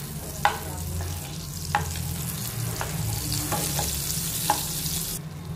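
Butter melting in a hot pan, a soft steady sizzle and crackle with occasional clicks of a utensil stirring, close and fairly quiet with no talk.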